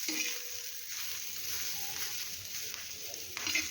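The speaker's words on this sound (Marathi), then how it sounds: "आता ही जिरे पावडर या मिरच्यांमध्ये आपण छान अशी मिक्स करून घेऊया" Green chillies fry in hot oil as cumin powder is stirred through them, giving a steady, close sizzle with soft scraping and a brief louder stir near the end.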